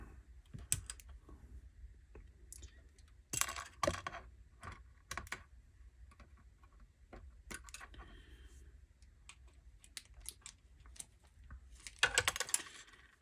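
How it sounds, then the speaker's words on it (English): Plastic trim pieces for a Titanic model kit are snipped off the sprue, giving sharp, close clicks and snaps scattered across a quiet background, with a few louder clusters. "Give those a nice snippety snip off the old sprue here."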